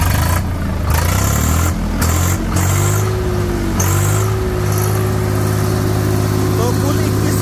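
Swaraj 855 tractor, a 2023 model rated 57 hp with Swaraj's own engine, running with a steady low diesel rumble close by, a rising rev partway through, and talk over it.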